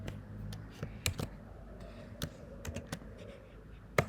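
Keys tapped on a Mac keyboard, a scattered run of sharp close clicks including firm strikes of the return key, with irregular gaps between presses and no talking.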